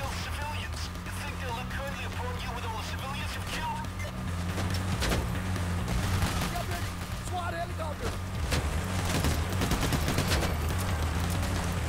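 Bursts of gunfire during a police shootout in the heist shooter Payday: The Heist, rapid shots cracking over a constant low engine-like drone and busy game noise.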